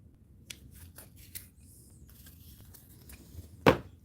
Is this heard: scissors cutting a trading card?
yes